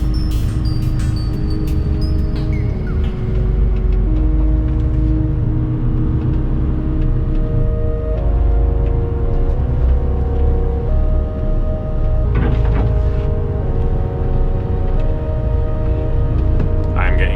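An articulated lorry moving slowly, with a steady low engine rumble and drone throughout, plus tonal whine shifting as it goes; someone talks over it.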